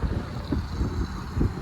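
Strong gusting wind buffeting a moving lowered truck on a long highway drive, a loud low rumble with pulsing surges of wind noise over the road drone.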